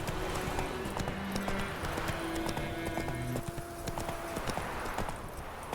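A horse's hooves clip-clop at a steady gallop in The Witcher 3 video game, continuous and moderately loud over game music and ambient sound.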